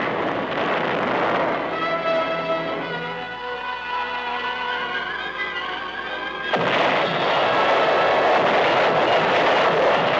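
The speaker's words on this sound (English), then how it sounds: "First, heavy preparatory fire to soften up the objective." Heavy preparatory artillery fire in archival wartime footage rumbles as a continuous, dense roar of distant blasts, with a sharp, louder surge of firing breaking in near the end.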